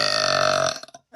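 One long, loud, resonant burp rumbles close by for about three quarters of a second, then trails off into a few faint sounds.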